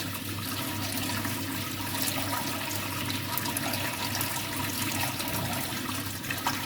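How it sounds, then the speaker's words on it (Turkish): Dirty, coal-black water gushes from a combi boiler radiator through an attached hose during a heating system flush, a steady, loud rushing and splashing stream with no talk. "Resmen kömür gibi su geliyor."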